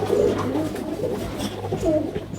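A pigeon coos in soft, throaty rolling calls close by, repeating over a low steady background hum.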